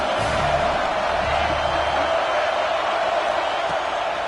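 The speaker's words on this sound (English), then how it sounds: "Big 3rd down as the crowd gets behind this defense." A packed football stadium crowd at a Georgia game roars behind the defense on a big third down. The loud, dense, unbroken cheering runs throughout, with a commentator's voice faintly underneath.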